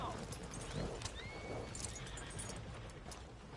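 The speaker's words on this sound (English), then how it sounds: "Are you gonna mount that new horse of yours or not?" Horse whinnying in the Red Dead Redemption video game, a high wavering neigh over steady ambient noise and faint hoofbeats.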